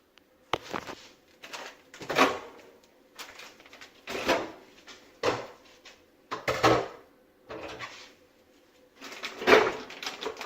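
Food being put into a microwave oven in a home kitchen: a run of sharp knocks and clatters, a door being handled and dishes set down, in several separate close bursts with quiet gaps between them.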